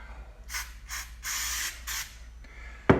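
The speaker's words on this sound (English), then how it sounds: "This is an aerosol can, something like this. I'll hose it down good." Aerosol prep cleaner sprayed from a can onto a metal part before powder coating, four hissing bursts of varying length in quick succession, close up, followed by a sharp click.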